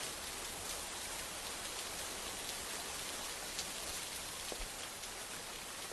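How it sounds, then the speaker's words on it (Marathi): Heavy monsoon rain pours steadily across Rajasthan, a dense, even hiss of drops on surfaces with no pauses and no voices. "तर राजस्थानमध्ये मुसळधार पाऊस पडलाय आणि त्यामुळे रस्त्यांवर देखील पाणी साचलंय"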